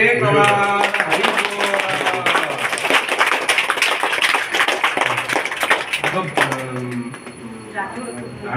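An audience claps at the inauguration of Sri Jagannath Vidya Mandir school in Sukapokhari, a loose patter of many hands in the room, mixed with a person talking loudly over it.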